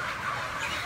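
Ten thousand chickens crowd one large barn, making a dense, steady chorus of clucking that sounds soft and somewhat distant throughout the brief moment.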